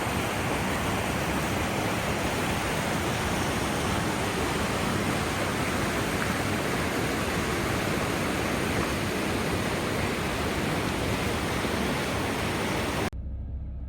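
The Firehole River in Yellowstone rushes past in a steady, dense roar of flowing water, loud and unbroken with no voices, cutting off abruptly just before the end.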